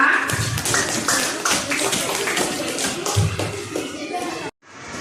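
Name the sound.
applause for the first group of students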